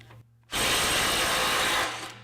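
A DeWalt compact impact wrench hammers at a 100 lb bolt, a brief loud rattling burst of rapid impacts lasting over a second before cutting off.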